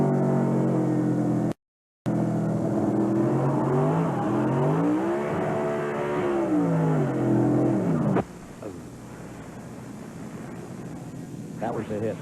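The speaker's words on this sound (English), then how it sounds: "You can hear those RPMs really wind up as Boris nailed the throttle" Onboard sound of Boris Said's 1998 Dodge racing truck at the California Truck Stop 300: the engine revs climb and fall loudly as the throttle is nailed, then drop off sharply, with a commentator talking over it.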